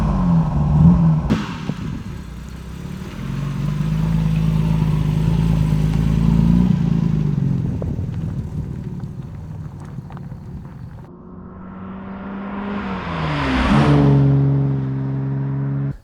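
A 1953 Aston Martin DB2 Vantage Drophead Coupé engine runs at a steady idle close by, its low rumble swelling and settling, then rising again into a brief rev near the end.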